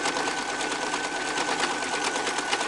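A sewing machine runs a stretch stitch on stretchy knit fabric, a fast, even needle chatter close by that continues steadily throughout without pause or talking.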